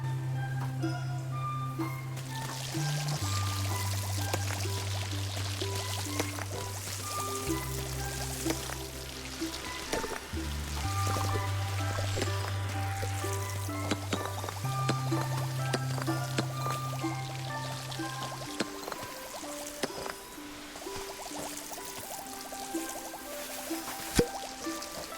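Continuous spray of water from a cleaning tool with an upgraded water tank in a video game, a steady hiss and patter running over a looping low synth music bed, with no talking.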